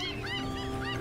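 Seagulls call near a lobster fishing boat off the coast of County Antrim or Kerry, a few curving cries over a steady low engine hum, fairly close and continuous through the second.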